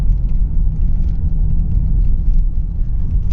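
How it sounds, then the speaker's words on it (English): A self-driving car in a Los Angeles parking garage, heard as a steady close engine rumble and road whir that holds unbroken throughout. "Self-driving car."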